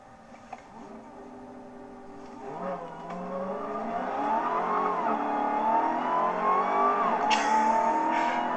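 A 2021 Dodge Charger SRT Hellcat Redeye widebody with launch control accelerates hard, its engine note climbing in a long rising roar that grows louder and steadier over several seconds, heard from inside the car.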